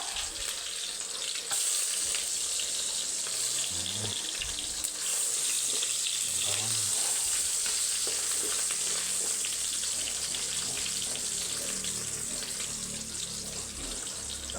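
Ginger, then garlic, sautéing in hot oil in a home kitchen for beef papaitan: a steady, close frying hiss that runs throughout, with faint low clatter underneath and no talking.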